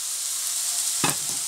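Potatoes frying in a pan for vegan empanadas make a steady sizzle, broken near the end by a couple of louder scraping stirs and flips.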